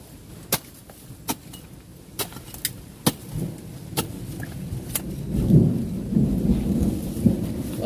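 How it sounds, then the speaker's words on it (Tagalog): Heavy rain pours down with thunder, a steady wash of rain broken by sharp, irregular cracks and knocks, and a low rumble swells toward the end. "lakas ng ulan"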